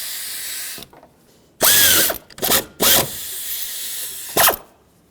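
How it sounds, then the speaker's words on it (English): A ratchet tightens mounting nuts on AC condenser lines of a 2008-2020 Dodge Grand Caravan, giving several loud, close bursts of rapid clicking separated by short pauses. "I'm going to start the mounting nuts on, and let's tighten these up as well."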